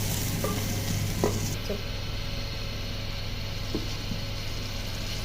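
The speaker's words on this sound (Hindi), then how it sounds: "पाँच मिनट भूनेंगे तो बस साग जो है वो हमारा रेडी हो जाएगा" Mustard greens saag frying in a pan, a steady sizzle with occasional scraping stirs of a spoon, close and continuous.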